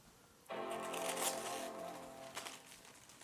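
An M4 MacBook Air box is being opened, with a soft sliding and rustle of packaging that starts abruptly and carries on close up, with small handling ticks.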